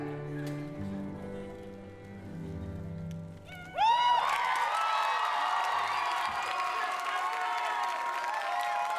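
As a show choir's song fades out, an audience bursts into loud applause, cheering and high whoops that fill the rest of the clip.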